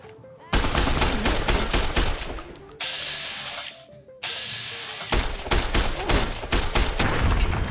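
Loud gunfire in Fallout: New Vegas, a dense fusillade of rapid shots in bursts, broken by a short lull before the firing resumes and continues to the end.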